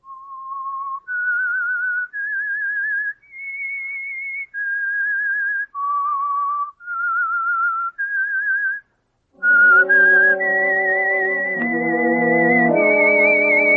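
A clear solo whistle plays a slow melody of held, vibrato notes, the theme of a 1947 radio drama, then orchestral music swells in beneath it near the end.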